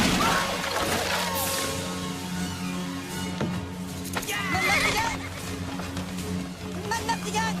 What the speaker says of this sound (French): Aux chevaux.